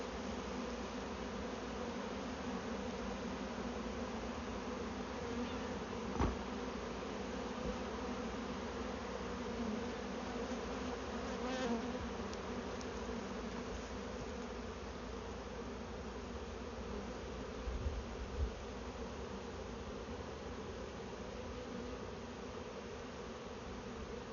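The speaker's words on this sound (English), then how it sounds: "See all the bees kind of starting to migrate to the top of the box there?" A honeybee swarm being moved into a new hive hums in a continuous, dense buzz that stays steady and close throughout, with a few faint knocks and handling sounds and no talk.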